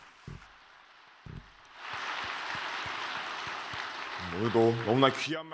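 An audience at a speech event breaks into applause. Two isolated claps come first, then a dense, sustained round of clapping swells and holds, and a voice begins speaking over it near the end.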